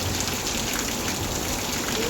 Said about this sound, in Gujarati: આજ બહુ વરસાદ ભારે છે